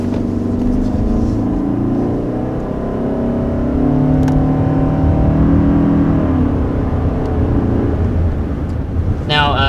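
A 2021 Toyota Sienna hybrid minivan with an eCVT accelerating, its engine drone holding a steady rising hum inside the cabin for several seconds, loud and continuous, with a brief rattle near the end.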